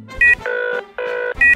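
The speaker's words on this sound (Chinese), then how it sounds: "我得马上打电话给消防局" A telephone in an animated cartoon rings with a bright electronic trill, in short repeating bursts separated by steadier tones, loud and close.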